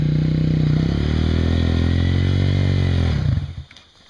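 Motorcycle riding a dirt trail, its engine droning loud and close with a steady, slightly rising pitch before easing off and fading near the end.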